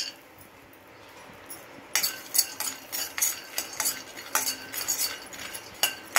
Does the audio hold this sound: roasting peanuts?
yes